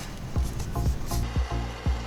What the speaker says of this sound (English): This corner is tight. It needs to be sanded down.